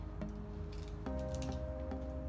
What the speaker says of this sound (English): So I can use my secateurs to cut it.